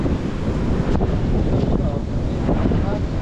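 Strong typhoon waves pounding the shore, a loud, constant roar of surf buffeted by heavy wind noise on the microphone, with some voices underneath.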